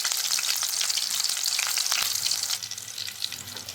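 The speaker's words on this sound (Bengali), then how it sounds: "এখন আমি এর মধ্যে কয়েকটা করে কাবাব ছেড়ে দিচ্ছি আর এগুলোকে ফ্রাই করে দিচ্ছি।" Chicken kababs fry in hot oil in a pan over a low gas flame, five at a time, giving a loud, dense, continuous sizzle heard up close that eases slightly partway through.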